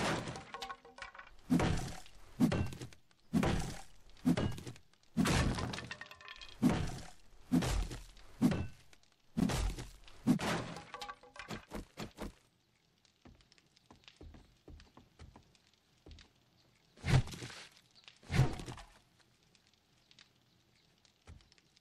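A fire axe strikes repeatedly in 7 Days to Die, a fast run of loud, sharp thuds and cracks at a steady beat, then a quieter pause, then two more heavy hits.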